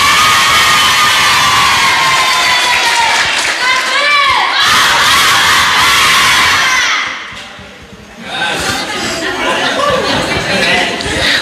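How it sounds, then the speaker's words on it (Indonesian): A debate-event audience erupts in loud, sustained cheering and shouting with excited crowd noise, dipping briefly near the end before swelling again, close and dense throughout. "Tepuk tangan."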